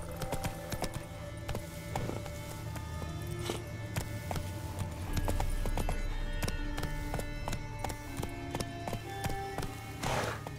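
Hooves clip-clop in a steady galloping rhythm as a horse runs through The Witcher 3: Wild Hunt, close and continuous for the whole stretch, with game music and ambience layered beneath.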